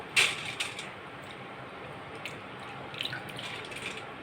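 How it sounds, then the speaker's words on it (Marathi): Water drains from soaked, washed mixed lentils resting in a mesh sieve, a faint trickle with a few drips and small clinks, close and quiet with no voices. "आता जाळीवर आपण डाळी चांगल्या नितळून घ्यायचे पाणी सगळं"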